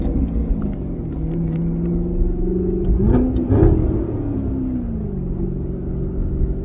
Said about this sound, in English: you can hear the exhaust from within the cabin